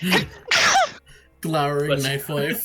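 A sharp, loud sneeze bursts out near the start, followed by a short pause and then people talking.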